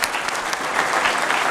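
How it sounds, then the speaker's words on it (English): An audience applauds at a live broadcast event from Ole Serenj, a steady dense clatter of many hands clapping throughout, fairly loud and without pauses. "A round of applause for His Excellency."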